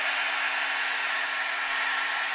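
A heat tool blowing steadily on a paper butterfly or dragonfly craft piece to dry it, a loud, unbroken whirring hiss held close throughout with no talking.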